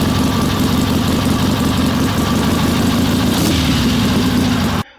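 A Harley-Davidson Sportster engine with a Tillotson carburetor idles at about 950 RPM after carburetor adjustment, a steady close rumbling drone that holds throughout and cuts off abruptly at the very end.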